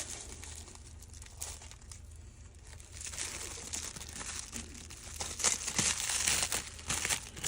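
Packaging around a replacement ADF motor for an HP M527 printer is unwrapped close by, giving quiet, irregular crinkling and rustling of plastic that grows louder toward the end.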